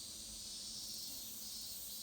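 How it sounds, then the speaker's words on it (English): Many bees buzz around a flowering garden tree on a bright morning, a steady, soft high hum close by with no gaps, thin and faint throughout. "I am surprised to see there are many bees in collecting honey"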